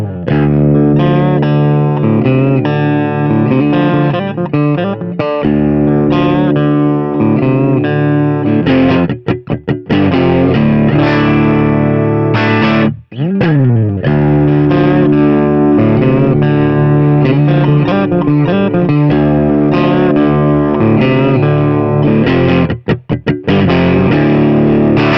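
A distorted electric guitar plays through an overdriven Two Rock Studio Signature amp, thick crunchy preamp breakup sustaining chords and notes with a few brief pauses.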